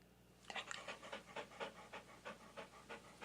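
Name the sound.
dog panting sound effect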